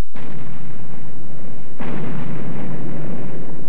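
British naval guns firing on the coast, heavy booming blasts with one loud report followed by a second powerful discharge, rumbling and sustained like distant artillery.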